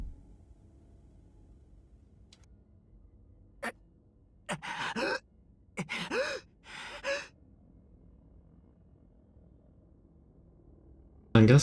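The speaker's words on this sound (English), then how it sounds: "I'm gasping for air." A character in the Tsukihime visual novel gasps for air, a few sharp breathy bursts spaced apart against near silence, with a louder burst right at the end.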